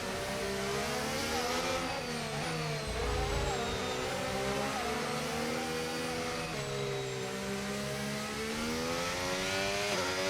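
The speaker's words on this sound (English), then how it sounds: "I'm going to let this Ferrari through" A Ferrari race car in the F1 25 video game, its engine a loud, steady high-pitched whine with pitch sweeps as it revs and shifts close by, continuous throughout with no talk.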